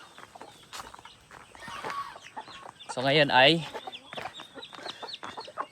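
Chickens and turkey chicks cluck and peep while feeding on fallen pods on a Filipino farm, with a loud burst of clucking midway and someone talking over the birds.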